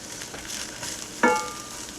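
Brussels sprouts sauté in a hot pan with a soft continuous sizzle, then a sharp metallic clink of a utensil against the pan rings out once, with no talking.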